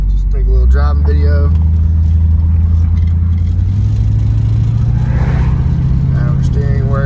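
A 1969 Ford Mustang Mach 1 with the 428 Cobra Jet V8, an original-paint survivor, driving: a loud, constant low engine drone fills the cabin, and a voice is faintly present.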